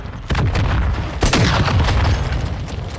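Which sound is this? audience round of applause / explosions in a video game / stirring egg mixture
explosions in a video game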